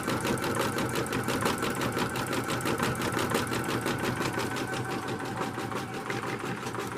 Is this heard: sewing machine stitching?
yes